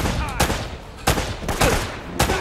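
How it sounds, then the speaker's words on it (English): Four sharp gunshots in Uncharted: Drake's Fortune crack out at uneven intervals, loud and close, with game ambience filling the gaps between them. "Oh, I just wasted my last bullet"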